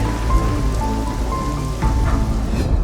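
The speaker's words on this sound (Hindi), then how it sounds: "जोर की बारिश आ गई है।" Heavy rain pours steadily, a dense hiss of drops drumming on surfaces, constant and loud throughout.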